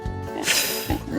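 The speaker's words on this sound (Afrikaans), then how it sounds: "Varkie." A pig oinks in an Afrikaans children's safari animal alphabet: a brief pair of grunting, snorting oinks over low background music, close and fairly loud.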